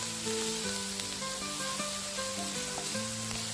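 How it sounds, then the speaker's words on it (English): Onions and melting butter sizzling in steak drippings in a cast iron pan over a campfire, a steady close frying hiss that runs continuously, while a musical tone plays beneath it. "Drop in 4 tablespoons of butter and let it melt into all those steak drippings."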